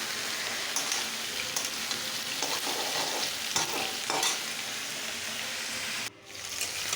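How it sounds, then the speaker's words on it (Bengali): Mixed vegetables for a curry frying in a pan with salt, a steady close hiss with occasional stirring scrapes, briefly cutting off near the end. "দেখো আমার কিন্তু সবজিগুলো মোটামুটি ভাজা কিন্তু হয়ে গেছে।"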